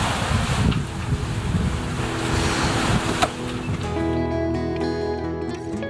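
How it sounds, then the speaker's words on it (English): Wind and waves rush past a sailboat under sail off the Great Barrier Reef, a loud broadband wash with the hull slapping the water, later joined by ringing, tonal creaks and rattles from the boat. "we're just having a beautiful sail"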